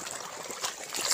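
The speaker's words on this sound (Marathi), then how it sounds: "हे पाणी तुम्ही पाहू शकता की कशा पद्धतीने एक एक सरीनुसार जात आहे" Irrigation water runs along the furrows of a sugarcane field with a soft, continuous trickle and gentle gurgling swells, close by and with no voices over it.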